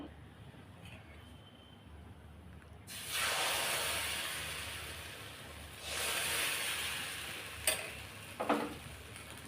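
Ragi appam batter hits a hot pan with a sudden broad sizzling hiss that swells, eases, surges again, then ends in a few sharp clinks of utensil against pan.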